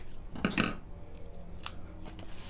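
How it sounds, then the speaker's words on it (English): Crafting scissors snip off excess string on a handmade card, a couple of quick close cuts followed by a few faint small clicks in a quiet room. "I'll put that in there and then cut off the excess"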